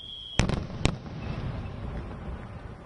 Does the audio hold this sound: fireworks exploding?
yes